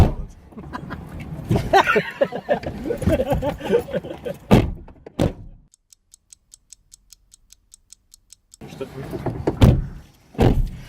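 A person climbing into a car, with rustling movement and a car door thudding shut, followed by a steady ticking chime inside the quiet cabin before talking resumes.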